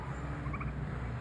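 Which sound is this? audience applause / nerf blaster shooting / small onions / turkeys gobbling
turkeys gobbling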